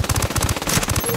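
Rapid automatic gunfire from the video game Ghost War, a loud, close, steady burst of evenly spaced shots with no talking.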